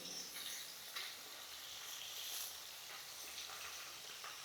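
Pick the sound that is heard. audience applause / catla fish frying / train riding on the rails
catla fish frying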